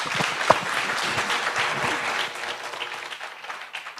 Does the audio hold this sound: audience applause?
yes